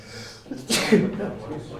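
A single sharp sneeze bursts out during a city commission meeting, loud and close, with speech continuing around it before and after.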